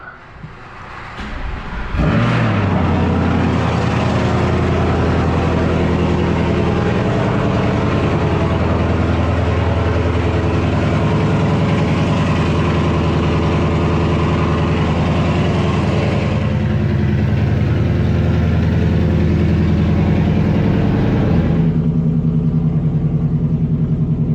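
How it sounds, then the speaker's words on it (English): Cold start of a 2025 Ford Mustang GT S650 with a 10R80 transmission, tuned to 760 horsepower, inside a garage: the engine cranks, catches and settles into a loud, steady, rumbling idle for over twenty seconds, with no talk. "Let's get a cold start."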